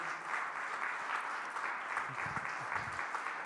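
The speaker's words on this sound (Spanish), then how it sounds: "Dale un aplauso, dale la gloria a su nombre." A church congregation at a general worship service applauds with a steady, moderately distant roar of clapping. A few low murmurs are mixed into the clapping.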